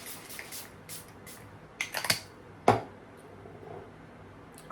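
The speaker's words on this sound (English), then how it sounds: "get some finishing spray and go like this" A makeup finishing spray gives several short, soft pumped hisses in an uneven sequence, fairly close, with a few quiet taps between them and no talking.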